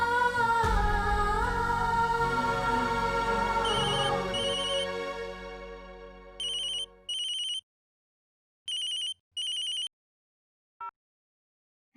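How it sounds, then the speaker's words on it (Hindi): A phone ringtone sounds in a domestic TV drama scene, entering after music fades: several short repeated electronic ring bursts in pairs, clear and fairly close, with silence between. "वो रश्मि का फोन आया था"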